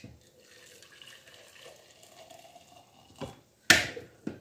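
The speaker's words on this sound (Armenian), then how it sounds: "մի քիչ ջուր պետք է լցնեմ այս սուրճի վրա" Quiet trickling of liquid, then a brief louder splash of water being poured onto coffee near the end, with a few small clinks.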